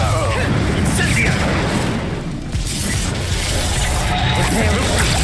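Incendio fire spell cast in the Hogwarts Legacy video game, a burst of loud crackling blasts and booms amid dense battle noise, with talk in the background.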